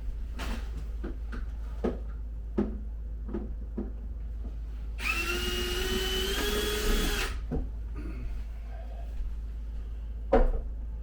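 A power drill boring a bolt hole for a self-contained diesel heater build, a single whining burst of about two seconds, heard close over a steady low hum, between scattered clicks and knocks of parts being handled.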